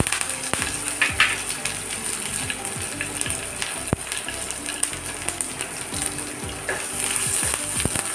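Green chillies, ginger and curry leaves sizzle in hot oil for a curd rice tempering: a steady close frying hiss with light crackles and scattered clicks of stirring.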